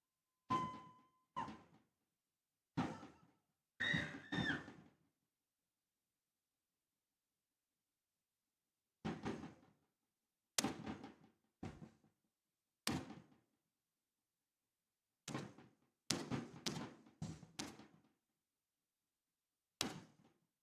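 Air pistol shots in a men's final at a shooting competition, sounding as sharp, separate cracks spread irregularly over the stretch, several shooters firing at different moments, with quiet gaps between and no talking.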